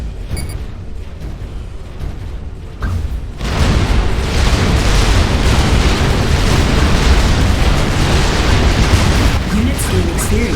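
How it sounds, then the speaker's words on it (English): Battle explosions in Supreme Commander 2 as Rockhead tanks and Titan assault bots fight: dense, continuous booms and bursts layered into a loud, steady roar, with quieter rumbling before the fighting swells. "Use your ACU, Rockhead tanks, and Titan assault bots to destroy the enemy Rockheads."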